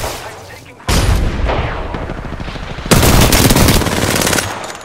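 Heavy automatic gunfire in the video game Apex Legends, two loud sustained bursts of rapid shots with a brief lull between them, close and dense.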